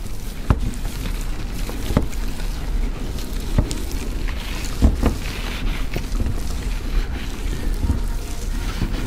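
A clay bar rubs over car paint contaminated with grit, giving a continuous close gritty scraping, like sandpaper, broken by sharp periodic clicks.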